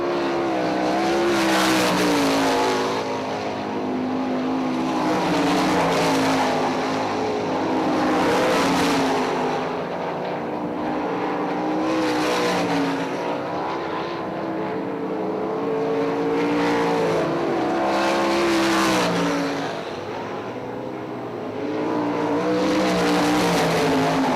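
Sprint cars race on the I-96 Speedway dirt track, their engines loud and near. The roar swells and fades in repeated waves as the pack passes lap after lap, with no talking.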